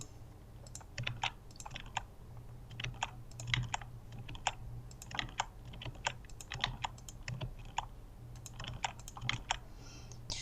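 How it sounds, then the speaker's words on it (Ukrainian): Ctrl-C and Ctrl-V being pressed on a computer keyboard among scattered key taps, sharp close clicks spaced irregularly over a low steady hum, quiet overall. "я натискаю Ctrl-C Ctrl-V і вставляю наші клітинки"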